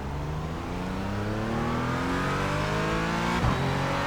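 A Porsche Cayman GT4 racing around Sebring in iRacing, its engine pulling at full throttle in a loud, steady rising whine that climbs through the revs, with a brief thump near the end.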